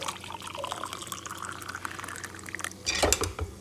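Water trickles briefly onto saffron being steeped for carrot rice, a soft pour rising near the end of an otherwise quiet kitchen moment.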